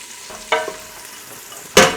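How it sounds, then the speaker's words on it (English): Onions frying hiss softly and steadily in a pot, with two brief louder bursts as they are stirred. "Oh, listen to that sizzle."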